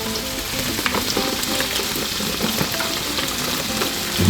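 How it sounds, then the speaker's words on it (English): Water boiling hard in a pot, a dense, continuous bubbling hiss with small pops throughout, close and steady. "Here you can see boiling."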